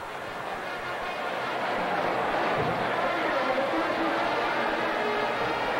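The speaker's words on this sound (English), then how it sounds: "Crowd is upset" Stadium crowd at a 1990 Florida State vs Miami college football game, a dense, steady roar of many voices murmuring and calling out after a play, sustained and fairly loud throughout.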